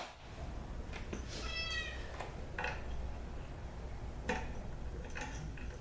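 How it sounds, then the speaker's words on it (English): An upset house cat meows once, a short, clear rising cry over steady low room noise, with light ticks and scattered knocks around it. "The cat is still very upset with us because we brought Puggles with us"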